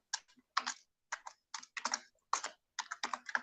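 Code typed on a computer keyboard, quick irregular clusters of crisp key clicks with short gaps, close and fairly quiet with no talk.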